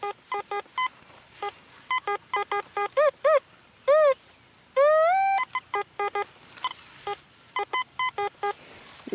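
Metal detector sweeping a coin target at an abandoned baseball field, giving loud repeated electronic beeps in uneven bursts, with a few rising warbling tones in the middle.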